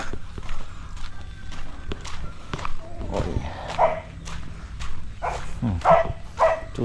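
Several dogs bark intermittently at a moderate distance amid outdoor background noise, with scattered footstep-like thumps.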